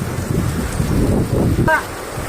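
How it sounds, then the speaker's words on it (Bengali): Heavy rain pours on a flooded street while someone wades through deep water, making a dense, rushing wash with low sloshing surges and a brief voice near the end. "পুরো জল জমে গেছে এত বৃষ্টি হচ্ছে যে ছাতাও যে আছে ছাতাও মানে মানতেছে না"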